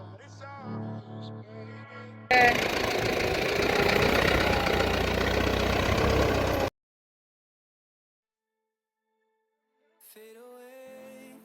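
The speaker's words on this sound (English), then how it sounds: "It was the first time, so we had to use a tractor." A tractor engine working a field being plowed for the first time, a loud steady rumbling drone lasting several seconds after a brief quieter stretch, then cutting off abruptly to silence.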